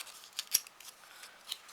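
Scissors snip paper for a handmade stationery set, giving a few short, crisp clicks close by. One sharper cut stands out among quiet handling sounds.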